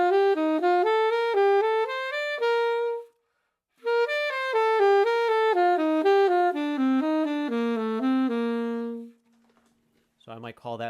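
Scale played in thirds with the direction inverted, a bright sustained instrument stepping through a quick run of notes, pausing briefly and then continuing, close and clear; a brief voice enters at the very end.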